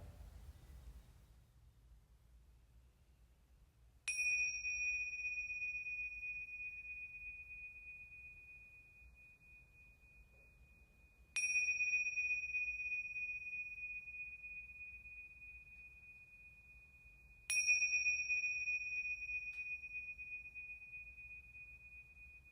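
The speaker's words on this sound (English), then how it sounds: "returning home to yourself with the sound of the bell." A meditation bell in a guided breathwork session strikes three times, each a clear pure tone ringing out and slowly decaying in near silence over a faint low hum.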